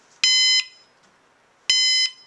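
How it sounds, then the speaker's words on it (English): Smart Caregiver cordless fall monitor alarm sounding two loud, harmonic electronic beep bursts, each about a third of a second, spaced over a second apart with quiet between. "Caregivers can now remove alarm noise from residents' beds and rooms by placing monitors in hallways where caregivers can hear them better."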